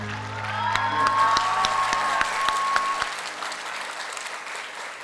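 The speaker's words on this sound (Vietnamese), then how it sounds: "một tràng vỗ tay dành cho Quỳnh Anh" A studio audience at the Vietnamese TV show Thiếu Niên Tỏa Sáng applauds contestant Quỳnh Anh with steady, dense clapping that fills the room, over a sustained musical tone, before thinning out toward the end.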